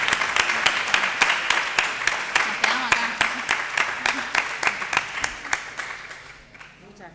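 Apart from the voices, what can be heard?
audience applause ending a talk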